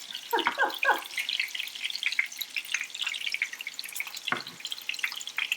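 Meatballs frying in oil, stirred with a slotted spoon, give off a steady close crackle and sizzle with scattered pops and a couple of scraping stirs.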